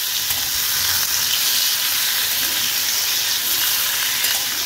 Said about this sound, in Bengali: তো হালকা হাতে পনিরগুলো আমি একটু ফ্রাই করে নেব